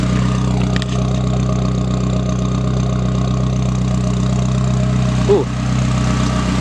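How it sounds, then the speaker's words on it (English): Turbocharged Chevrolet Cruze engine fitted with an Injen cold air intake, a steady idle-like engine drone heard from inside the car, with a brief voice exclamation near the end. "You can hear more of the turbo."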